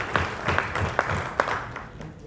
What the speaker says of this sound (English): I think we can give a big round of applause to her.